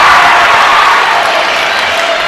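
A large basketball crowd in Harrison Gymnasium roars and cheers right after a game-tying free throw, a dense, loud wash of voices and applause filling the gym throughout.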